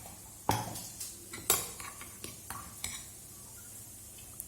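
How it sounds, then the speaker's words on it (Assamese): Washed flattened rice (chira) being mashed in a large bowl, a few loud utensil knocks against the bowl followed by softer irregular squishing and scraping close by. "মই ইয়াতে চিৰাটো এতিয়া এটা ডাঙৰ গামলাত লৈ লৈছোঁ, ধুনীয়াকৈ সেইটো মঠিব লাগিব"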